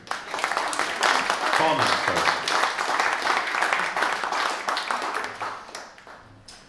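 An audience claps steadily, a dense wash of applause that fades out toward the end, with a voice speaking briefly over it.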